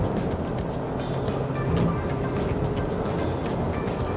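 A Honda CR-V accelerating hard in third gear, a continuous loud engine drone and road noise heard from inside the cabin, steady with no break and no talk over it.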